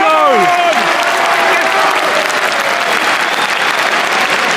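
A football stadium crowd at a Brighton vs Arsenal match roars and applauds in a loud, sustained wash of cheering, with a few shrill whistles rising early on.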